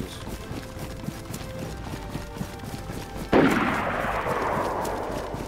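Suppressing fire in the DayZ survival game, a loud gunshot that cracks sharply and then trails off in a long echoing rumble, after several seconds of quiet game ambience.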